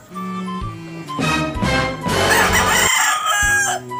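A rooster crows loudly and close in a backyard, a long drawn-out call, with other hens clucking and calling around it.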